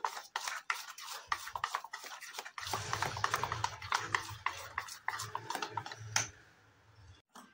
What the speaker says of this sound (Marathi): 2 मिनिटं चांगलं फेटून घ्यायचं आहे असं एकसारखं